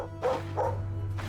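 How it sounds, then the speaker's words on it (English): Beefy-looking dogs in the video game Stoneshard let out three short, moderately loud barks in quick succession over a low steady hum. "Some beefy looking dogs."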